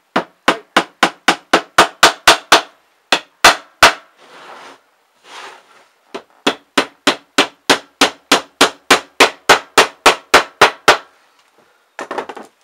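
Sharp hammer strikes drive nails into the wooden lid of a homemade pirate chest, a fast, even run of loud, close blows broken by a short pause and a few scraping sounds, then another steady burst of hits.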